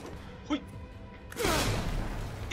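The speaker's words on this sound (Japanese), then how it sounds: "え、そっちで爆発した" An explosion goes off in the video game Resident Evil 3, a sudden loud burst with a rushing, crashing tail that lingers, following a few quieter game sounds.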